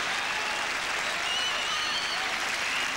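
Steady, dense applause from a tennis crowd at the 1990 French Open, a full clatter of clapping filling the stadium for three seconds without voices.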